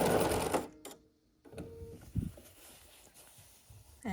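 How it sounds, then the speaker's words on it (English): Sewing machine stitching the final seams of a scrappy sampler quilt block, a quick burst of close mechanical whirring at the start, then quiet handling clicks and soft rustles. "sew across here with a 1/4 inch seam allowance"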